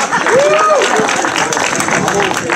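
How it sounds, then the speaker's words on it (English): An audience applauds at a Democratic Party celebration event, a broad, sustained crowd clapping filling the room while a voice speaks over it. "And while we're clapping"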